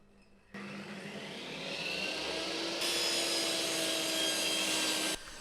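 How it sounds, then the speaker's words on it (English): A table saw rips through wooden planks for a laminated shelf, a steady loud whining cut that starts abruptly, swells midway and stops sharply near the end, with no talking. "before I glue them together I run them through the table saw"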